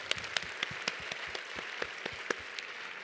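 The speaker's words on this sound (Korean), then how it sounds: "Let's give them a round of applause." A church congregation at a Christmas worship service applauding steadily, a dense, even wash of many hands clapping throughout, with no voices over it.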